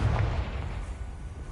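A booming explosion from the Confringo fire spell in the video game Hogwarts Legacy, a heavy burst that rumbles and fades over about a second.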